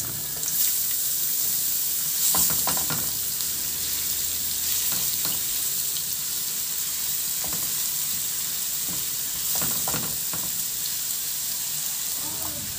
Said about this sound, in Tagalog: Igisa ko na yung bawang.